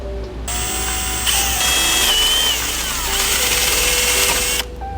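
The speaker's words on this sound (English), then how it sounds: "I'm going to take my drill" A power drill whines steadily at high speed for several seconds, drilling into a carbon tab on a BMW F30 diffuser, its pitch wavering slightly as it bites into material, then stops abruptly.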